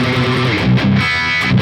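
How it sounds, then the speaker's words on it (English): A distorted electric guitar plays the closing block of the first riff of a song: a short, dense, chugging phrase of palm-muted low notes and brief higher stabs, loud and close with no talking. "The last block of the first riff sounds like this."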